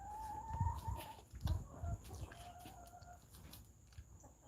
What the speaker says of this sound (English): What you doing, chickens?